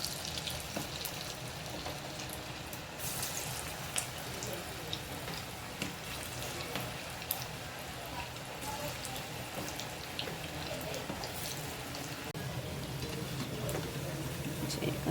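Coriander fritter batter balls frying in hot oil make a steady, close crackling sizzle throughout, with no one talking.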